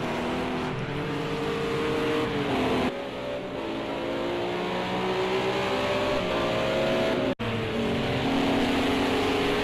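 Ginetta GT4 race cars racing in Project Cars 2, a loud, sustained engine drone rising and falling in pitch through gear changes as the cars pass, with one brief dropout in the sound.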